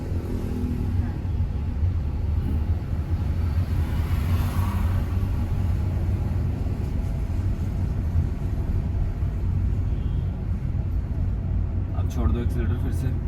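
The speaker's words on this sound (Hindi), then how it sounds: "दबाओ क्लच दबाओ, थर्ड गियर आगे ले जाओ, आगे चलो, छोड़ो क्लच" A car engine hums steadily in third gear while the car drives along, a constant low rumble heard from inside the cabin, with an instructor talking over it throughout.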